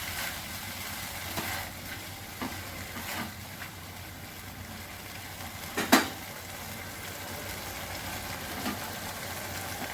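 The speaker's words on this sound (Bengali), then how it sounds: "একসঙ্গে একটু কষিয়ে নেব।" Ingredients for a Mumbai curry being sautéed together in a pan give off a soft, continuous sizzle with faint stirring scrapes and one brief sharper clink near the end, with no talking.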